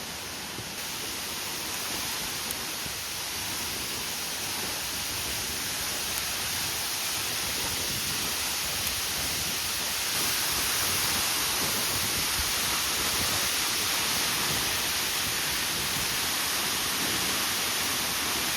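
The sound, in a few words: wind blowing at Balangikog Falls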